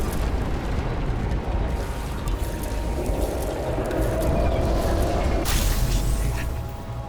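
Explosion in the video game Nobody Wants to Die, a broad roaring rumble that sustains for several seconds, then a sharper burst near the end before it tapers off, with no talk over it.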